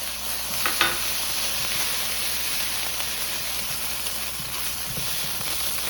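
Food sizzles in a hot oiled pan while cooking Dominican chofan fried rice, a steady close crackling hiss with a few brief clinks of utensils.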